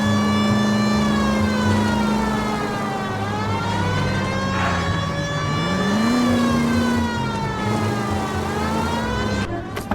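A police car in the video game L.A. Noire drives with its siren wailing, a loud steady tone that dips and rises over a running engine, close throughout.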